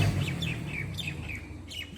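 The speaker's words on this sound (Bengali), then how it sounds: "আজকেও নতুন কবুতর দুইটা নিয়ে আসা হয়েছে" Pigeons in a cage giving a series of short high chirping calls, several thin repeated notes over a low rumbling background, close and moderately faint.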